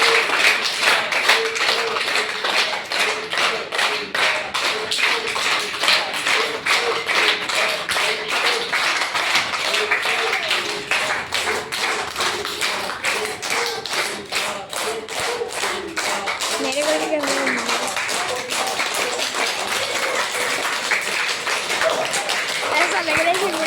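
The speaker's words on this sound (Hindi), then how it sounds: "इससे भी ज्यादा एक्सरसाइज करनी हो तो 5 बार ताली बजाओ" A group claps hands as a warm-up exercise, a dense run of sharp taps repeating steadily throughout, with voices talking over the claps.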